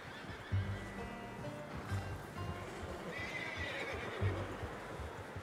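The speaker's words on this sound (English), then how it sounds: "How's that new horse?" A horse in the Red Dead Redemption 2 video game whinnies and snorts while hooves clip-clop steadily, with several low heavy thuds; moderately near with faint background, no talk.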